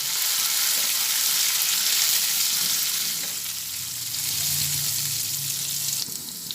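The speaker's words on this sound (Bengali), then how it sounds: "কমিয়ে চালটা অল্প করে ভেজে নিচ্ছি" Gobindobhog rice lightly fried in a pan over a low flame: a dense, steady hiss of sizzling that dips slightly midway and continues close up without talking.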